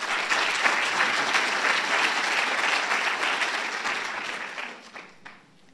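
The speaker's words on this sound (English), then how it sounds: "Let's give him a round of applause." An audience at a Google session on artificial intelligence claps for a speaker, a steady wash of applause from many hands at moderate distance that tapers off over the last second.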